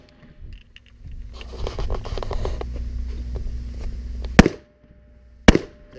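Two sharp, loud rifle gunshots crack at a tactical firearms training class, about a second apart late in the clip, after a stretch of rumbling ground noise and shuffling movement.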